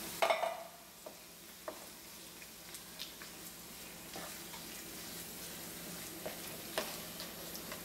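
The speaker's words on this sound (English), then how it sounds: "So I'm adding these canned beans and" Canned refried beans stirred into a hot pan for a homemade crunchwrap, a faint sizzle under soft scraping and clinks of a spoon, close and quiet with no talking.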